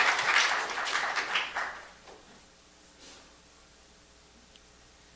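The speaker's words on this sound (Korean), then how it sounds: "여기도 한번 박수 한번 보내봅시다." A church congregation claps for the praise team during a Sunday service in a short burst of applause that lasts about two seconds, then dies away into a quiet room.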